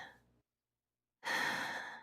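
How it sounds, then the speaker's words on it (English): A slow, deep exhalation during a breathing exercise, soft and close, a brief breath then a pause before a longer airy breath out. "deep breath out"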